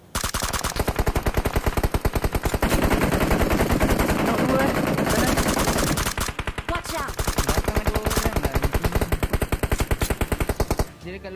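Rapid bursts of gunfire from an online shooter game fill most of the stretch, loud and dense with brief pauses, while players talk over the action.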